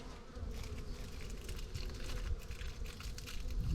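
Bees in a bee yard buzz around a beekeeper, a dense, continuous close-up hum with individual insects passing nearby, alone without talk.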